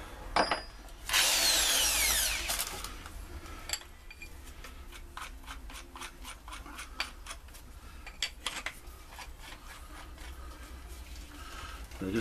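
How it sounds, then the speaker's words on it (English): A power drill whirs loudly for a couple of seconds, then a series of short ticking and clicking bursts follows with quieter gaps between. "So just put it in a normal drill"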